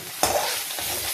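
Fish frying in oil gives a bright, close sizzle that jumps up suddenly and keeps crackling, with a stir or scrape partway through.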